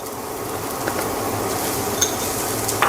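Boiled corn kernels tumbling into a hot pan for upma, followed by loud continuous sizzling and spoon-stirring with occasional light scrapes against the metal.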